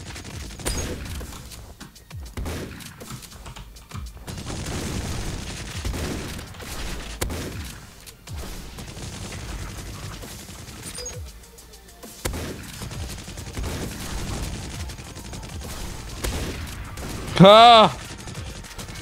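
Rapid enemy gunfire in the video game Meltdown, repeated bursts at moderate level mixed with game effects, a brief exclamation, and a sharp tonal chirp near the end.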